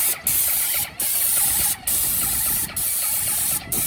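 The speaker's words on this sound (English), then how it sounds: "This paint sprayer gun he's got is absolutely awesome. It just puts it on super evenly." A paint sprayer gun lays paint onto a car wash structure in a steady loud hiss, broken by four or five brief pauses as the trigger is released and pulled again.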